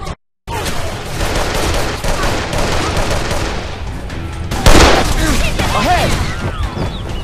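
Gunfire in the video game Call of Juarez: The Cartel, with rapid, loud bursts of automatic fire rattling almost continuously under shouting voices, after a brief silent gap at the start and a heavier blast midway.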